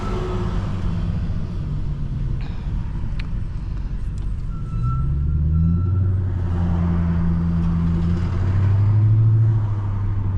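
A truck rumbles along a city street, its low engine drone swelling as it passes close by, with brief higher squeaks and a faint clank over steady traffic noise and no voices.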